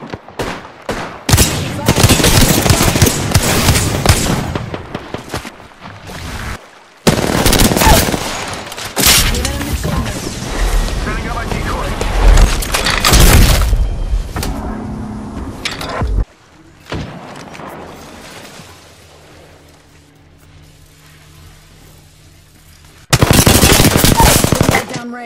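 Automatic-weapon gunfire in the Apex Legends video game: loud, rapid bursts of shots in several separate volleys with short gaps between, plus a brief voice line.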